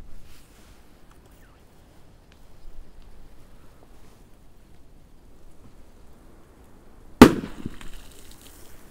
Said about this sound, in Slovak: úplne ako prvý výbuch si dnes dáme starú mini dumbumku